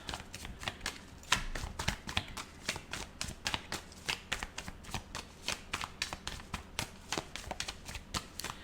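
Tarot cards are shuffled by hand in a quick, irregular run of crisp riffling flicks and slaps, close and fairly quiet, with no talking over them.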